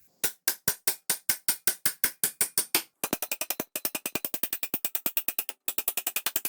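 Ratchet wrench turning a bolt loose on a Walker 1.5 ton floor jack, model 93632: a close, loud run of rapid, evenly spaced clicks that pauses briefly and resumes at a quicker pace, with no talking.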